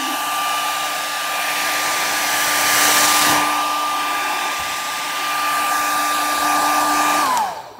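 A handheld hair dryer runs loud and steady for about seven seconds with a constant whining hum, then winds down and cuts off near the end.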